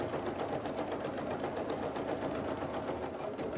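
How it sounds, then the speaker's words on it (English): An embroidery sewing machine stitches a basting box onto fabric in the hoop, giving a steady, fast, even chatter of needle strokes, soft and close, with no talking. "we'll go ahead and sew a basting box down"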